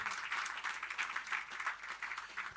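A faint, distant round of clapping from an audience at a Sufi music recital honors a performer, quiet and steady throughout.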